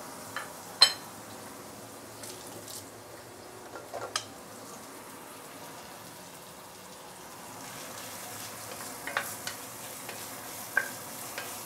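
Ginger, garlic, shallot and coriander roots sautéing in a 26 cm pot, with a soft low sizzle and a few sharp clinks and scrapes of the utensil, fairly quiet and without talk.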